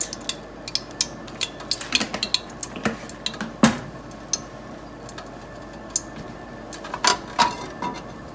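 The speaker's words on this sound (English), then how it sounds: "now I'm gonna be starting to cook the chop suey, starting with some oil in a big pot." Big metal pot handled on a stove while cooking chop suey, with scattered clinks and knocks of metal and utensils, one sharper clang, against a quiet kitchen background.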